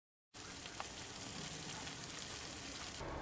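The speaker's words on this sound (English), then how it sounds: "Also frying some onions." Onions fry in a pan with a dense, steady sizzle that starts abruptly and holds constant, close and fairly loud.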